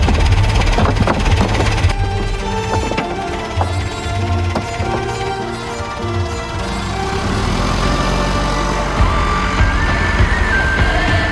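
A JCB excavator's engine runs loudly and close by with a rough, steady idle that shifts slightly in load, plus some clanking in the background.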